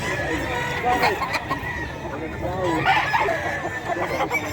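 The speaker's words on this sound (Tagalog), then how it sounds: "mga manok dito ni Boss Perry guys." Several chickens and gamecock roosters call and cluck around a busy pet market in Bocaue, Philippines, with a crow rising midway and someone talking over the flock.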